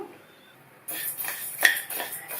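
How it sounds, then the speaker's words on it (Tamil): Dry moong dal poured into a hot kadai for roasting gives a sudden rush of rattling, skittering grains against the metal pan, close and moderately loud, with small clinks. "இந்த கப்ல 1 கப் பாசிப்பருப்பை இதுல சேர்த்துட்டு வறுத்துக்கணும்."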